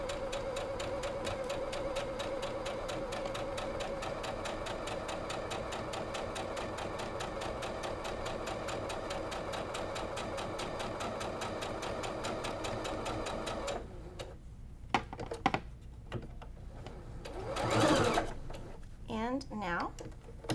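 A sewing machine runs steadily, stitching flying geese zigzag quilt block pieces for about fourteen seconds, then stops, leaving faint handling noises and brief fabric rustles.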